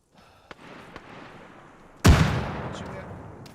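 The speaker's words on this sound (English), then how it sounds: "I'm chucking a nade. Nade out." In the Arma video game, a few scattered distant gunshots pop before a thrown grenade bursts in a loud, sharp explosion that rumbles and fades.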